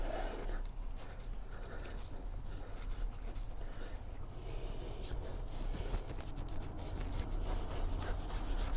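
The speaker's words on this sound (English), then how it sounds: "this will just clean this panel up really nicely, give it a good shine" A cloth rubs steadily back and forth, polishing a brushed aluminum panel, producing a continuous close, soft scraping swish with no talk.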